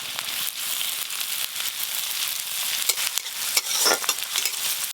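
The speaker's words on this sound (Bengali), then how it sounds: "আলুর পুরের জন্য প্রথমে ফোড়নে দেব গোটা জিরে, পেঁয়াজ কুচি, আদা কুচি, কাঁচা লঙ্কা কুচি" Whole cumin, chopped onion, ginger and green chili sizzle steadily in hot oil for a potato filling, a continuous close frying hiss with crackles and stirring scrapes rising toward the end.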